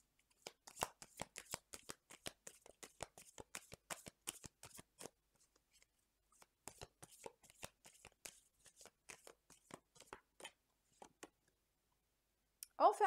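Tarot and oracle cards are shuffled by hand in quick crisp bursts of riffling snaps, pausing midway and resuming, close and fairly quiet, with a brief voice at the very end.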